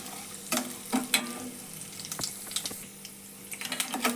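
Cabbage palya with urad dal and chana dal frying in a pan, a soft steady sizzle broken by several louder scraping stirs, close by with no talking.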